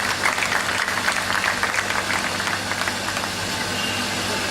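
Loud, dense clapping rises from the audience at a book release event, a continuous burst of many hands with no voices over it.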